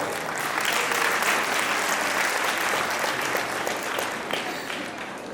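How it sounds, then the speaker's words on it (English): Audience applause at a school annual day celebration, given for the students' colourful cultural program; sustained, dense clapping from a large crowd fills the whole stretch at a steady level, easing slightly toward the end. "All the students, they truly deserve a big applause by you all."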